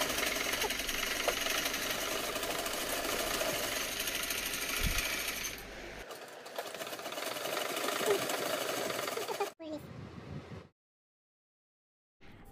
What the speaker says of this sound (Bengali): এখন আমি এটা সেলাই করে নেব।